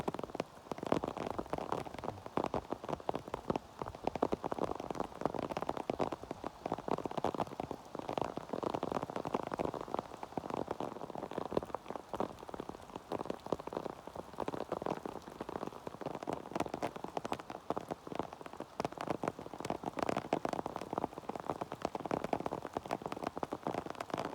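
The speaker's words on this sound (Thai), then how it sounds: "ฝนตกหลายขนาด" Heavy storm rain pours down with strong wind, a dense continuous hiss and patter of drops on surfaces lasting the whole stretch at an even, fairly close level.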